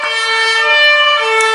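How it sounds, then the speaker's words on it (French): A loud, close emergency siren wails steadily as a police vehicle passes in a French street, its tone sustained and dominant with no voices over it. "Puis la police qui passe."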